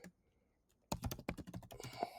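Computer keyboard typing starts after a near-silent second, then runs as a quick, close burst of clattering keystrokes in an irregular rhythm, with no voices.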